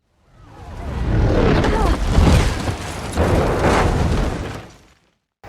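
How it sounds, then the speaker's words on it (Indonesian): A large explosion in an action film scene, with a loud, sustained broadband roar and rumble lasting several seconds before cutting off. "terjadi ledakan yang mengakibatkan beberapa orang tewas dan menjadi korban"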